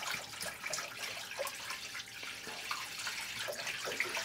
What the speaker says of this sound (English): Add some vinegar. Lots of it.